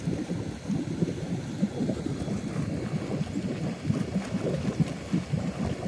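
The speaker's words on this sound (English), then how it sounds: "you want all your jets looking the same when they're blowing out" Return jets in an inground swimming pool blow air and water out during winter closing, a low, steady gurgling rush with bubbling turbulence that stays at a moderate level throughout.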